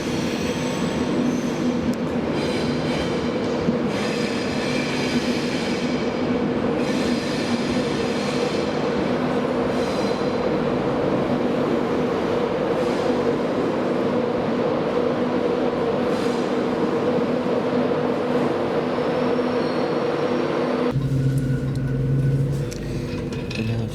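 A passenger train pulls out of York station, its wheels rolling with a steady loud rumble and high squealing tones, carriage noise continuous for the whole stretch, then a sharper shift in the rattle near the end; no one speaks.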